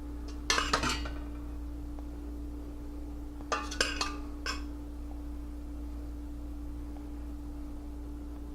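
Pasta goes into a pan for chicken Alfredo and is stirred, with two brief bursts of clinking and scraping of utensil on cookware over a steady background hum, the rest quiet.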